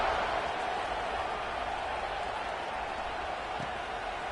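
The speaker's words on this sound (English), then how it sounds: "this crowd is buzzing after that last score" A football stadium crowd at Michigan keeps up a steady, broad buzz of noise through the whole stretch, with no sharp peaks.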